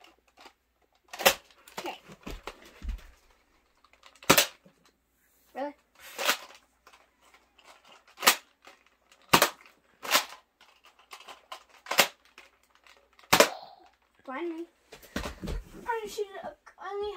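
A Nerf Fortnite SPL Elite dart blaster fires about eight sharp, separate pops spaced a second or two apart, with a voice talking between the shots.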